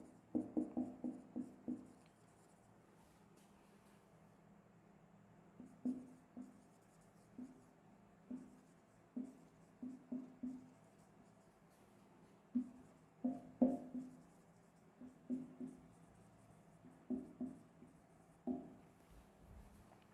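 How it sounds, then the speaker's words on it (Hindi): A teacher writes a sentence on a classroom board, producing bursts of quick taps and scratches in irregular clusters, close and fairly quiet with no talk over them. "तब तक मैं अगला सेंटेंस लिखता हूं"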